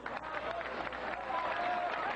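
Crowd applause and cheering at a professional 9-ball pool match after Efren Reyes runs the rack, a steady broad wash of clapping at moderate loudness throughout.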